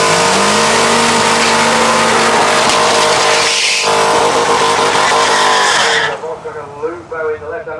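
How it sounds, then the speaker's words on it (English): Drag racing cars, one a Corvette, launch side by side down the strip at a multi-track UK drag event, a loud sustained engine roar with rising pitch that suddenly cuts off and fades to distant rumble. "In the left hand lane, Dave Mahoney in the Corvette in the right hand lane"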